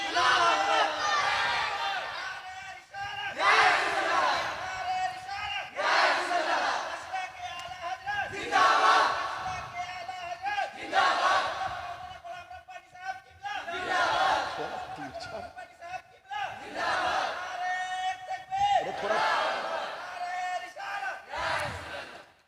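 A large crowd at a religious gathering roars a slogan in unison, again and again in loud bursts, with a lead voice calling between each shout.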